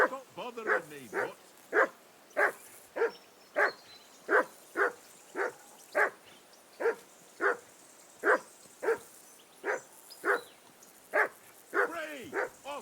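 A dog in the medieval game Kingdom Come Deliverance 2 barks steadily, about twenty sharp evenly spaced barks close by, with a voice briefly heard.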